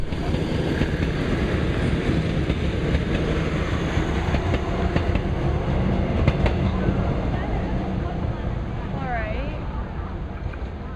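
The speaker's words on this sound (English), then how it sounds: "That train that just went by" A train on a South Korean rail line rumbles and rattles past nearby, a loud continuous clatter of rail cars filling the whole stretch, with faint voices now and then.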